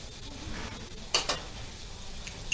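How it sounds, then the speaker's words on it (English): Beef fillet sears in a hot pan for a Beef Wellington, a steady close sizzle broken by a couple of sharp metallic clinks of a utensil against the pan. "While we're getting the fillet seared"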